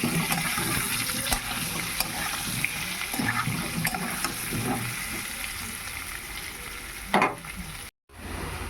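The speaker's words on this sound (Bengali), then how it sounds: "এবার লাল লাল করে আলুগুলো ভেজে নেব" Potatoes fry in hot oil with a steady, close sizzle, broken by occasional stirring clacks and one louder splash near the end.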